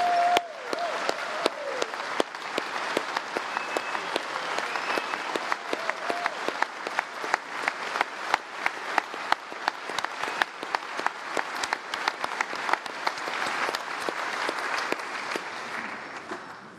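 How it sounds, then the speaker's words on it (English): A large audience at the NRA Members' Meeting applauds for their president, a sustained, dense roar of many hands clapping with sharp individual claps standing out, loud and continuous for the full stretch. "how about all of you joining me in applauding Alan Kors, NRA president, for his service?"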